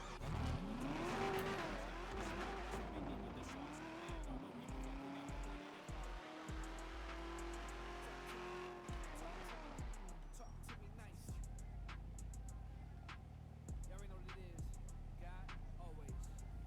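Car in a video game driving hard, a steady engine note rising and falling through gear changes with tire squeal, under music and a person speaking.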